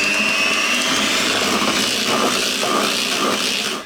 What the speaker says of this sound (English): we're just going to beat that into the cream using the electric hand mixer again